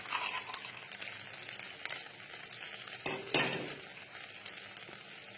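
Pasta is stirred in a frying pan with dried chilli over gentle sizzling. A spoon scrapes and knocks against the pan now and then, close but quiet, with two sharper clanks partway through.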